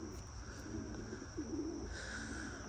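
Soft cooing from young racing pigeons in a loft, faint and low, with a steady background hiss and no talking.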